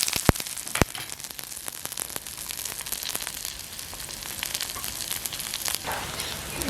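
Mustard seeds crackle in hot oil for a Jaffna-style jackfruit curry, with a steady close sizzle dotted with sharp, irregular pops, a few louder snaps standing out near the start.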